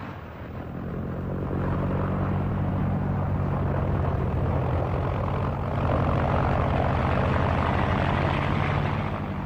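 Three radial engines of a Junkers Ju 52 trimotor airliner drone steadily and loudly while the plane taxis, a dense continuous propeller rumble that holds even throughout with no voices over it.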